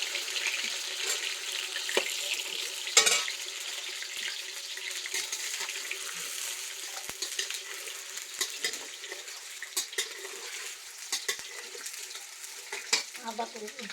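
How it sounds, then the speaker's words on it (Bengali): Potatoes frying in a pan for a village-style meat dish, a continuous close hiss and sizzle with scattered crackles and a few louder spits, heard alone without talk. "এটাকে আমি ভালো করে ফ্রাই করে নিয়েছি"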